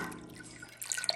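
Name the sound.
pouring dissolved solution into milk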